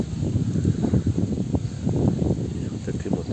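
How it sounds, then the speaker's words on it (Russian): Wind gusting through a garden, a steady low rushing roar with rustling swells that rise and fall throughout, close and fairly loud. "У нас тут поднялся ветер."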